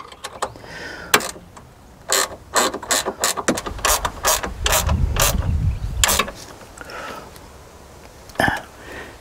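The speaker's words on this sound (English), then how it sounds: "So we got us a wrench here ready for it." A wrench ratchets a 10 millimeter bolt on a Silverado battery terminal, sharp repeated clicks in quick bursts with short pauses between them, close and distinct.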